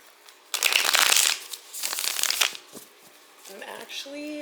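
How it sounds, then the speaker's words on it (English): Tarot cards are shuffled in bursts close to the mic, crisp riffling and slapping, with a quiet voice and a faint tone near the end. "Let's just shuffle up here."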